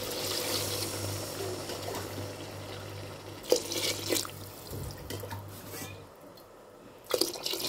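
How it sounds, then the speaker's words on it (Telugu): Water poured from a glass into a pot of rice for cooking, a soft splashing pour over a low steady hum, with a few clinks and handling knocks in between. "అంటే 2 గ్లాసెస్కి 3 గ్లాసెస్ వాటర్ పోసుకుంటున్నాను."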